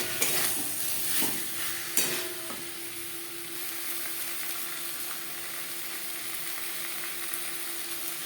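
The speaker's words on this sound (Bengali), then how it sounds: "2-3 মিনিট মশলার সাথে আলু নাড়াচাড়া করে নেওয়ার পর দিয়ে দেবো 1 চামচ ভাজা মশলা" Potatoes stirred with spices in a pan for a pabda fish curry with potato and eggplant, cooked with little oil: a few scraping strokes in the first two seconds, then a steady, even sizzle with no talking.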